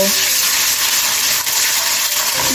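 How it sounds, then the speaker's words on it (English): Ginger and garlic sauteing in a pan for a spicy chicken curry, a steady close hiss of frying that holds evenly throughout with no talk over it. "let me add the ginger garlic, and now I'm going to saute it"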